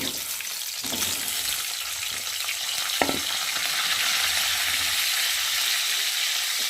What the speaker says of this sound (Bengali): এবার কেটে রাখা আলুগুলোকে ভালো করে লাল লাল করে ভেজে নেব।